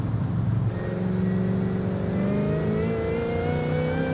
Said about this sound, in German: Was ist das für ein Kompressor-Sound, Digga?